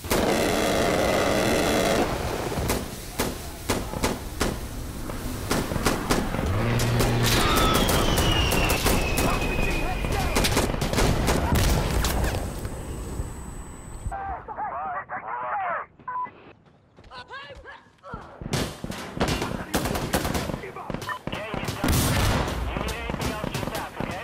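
A requested gun run in Insurgency Sandstorm brings dense, loud machine-gun fire and booming impacts, ending in a sudden hush before more scattered shots and crackling bursts resume.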